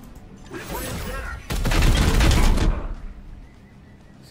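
Gunfire in Warhammer 40k: Chaos Gate - Daemonhunters, a dense burst of shots lasting about a second and a half, louder than the softer rattle before and after it.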